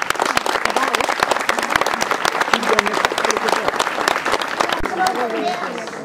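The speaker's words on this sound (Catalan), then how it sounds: "jo demanaria un aplaudiment a la coordinadora del camí de cavalls" Applause from diners at an annual dinner honouring the coordinator of the Camí de Cavalls trail, loud sustained clapping from many hands, with voices rising beneath it toward the end.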